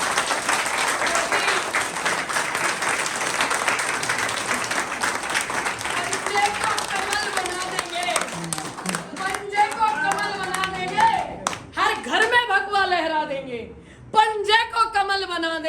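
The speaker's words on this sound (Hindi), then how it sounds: "उन दोनों के लिए एक बार 30 सेकंड तक जोरदार तालियां बजनी चाहिए" A rally crowd at a BJP leader's speech claps loudly and steadily, the dense applause gradually thinning as a voice comes in over it toward the end.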